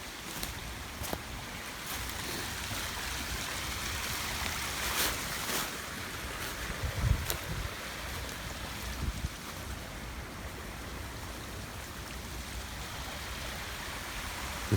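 Steady wash of flowing water, broad and continuous like surf or a rushing stream, with faint wind and a few scattered knocks and splashes, no voices over it.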